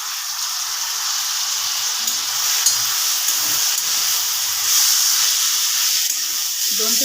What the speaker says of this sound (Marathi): दोन ते 3 मिनिटे छान परतून घ्यायची आपल्याला।